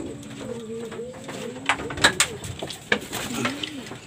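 A racing pigeon coos softly and repeatedly on returning to the loft after a 69.9 km release from Lucban, Quezon, with rustling, light knocks and scattered clicks around it.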